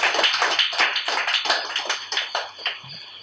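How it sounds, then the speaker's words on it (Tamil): Church congregation clapping hands together to glorify God during a sermon, a dense, continuous patter of many overlapping claps, loud and close, with no talking. "கைத்தட்டி கர்த்தரை மகிமைப்படுத்தும் பார்க்கலாம்."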